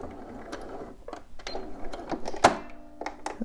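A domestic sewing machine back stitches a fabric seam for shorts, with short mechanical whirring bursts and clicks stopping and starting, close and moderately quiet.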